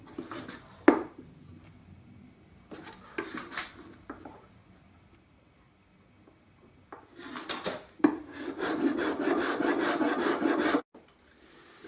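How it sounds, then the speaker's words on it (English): A hand scraper shaves the wood plate of an archtop guitar being carved to profile, giving bursts of close, dry rasping strokes that grow into a long, steady scraping run near the end. "So I've scraped that now to the profile that I want"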